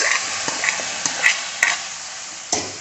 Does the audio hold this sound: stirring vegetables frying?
yes